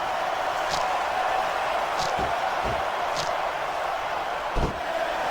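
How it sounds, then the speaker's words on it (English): Steady roar of a capacity arena crowd in the WWE SmackDown vs Raw wrestling video game, a dense constant murmur with a few sharp slams and thuds breaking through. "This capacity crowd is making their opinions known tonight."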